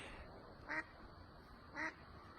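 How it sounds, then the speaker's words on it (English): Two distinct duck quacks, about a second apart, sound faintly at a distance against a quiet background hiss. "The ducks are back."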